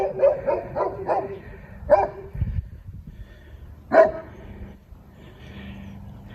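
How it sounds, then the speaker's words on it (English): Dogs next door barking in short clustered bursts, several sharp yips followed by pauses and a single louder bark, heard from a moderate distance outdoors. "Got company now with some dogs next door."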